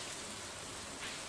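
Rain in the Stardew Valley video game, a steady soft hiss of falling drops throughout, faint and continuous with no other sounds.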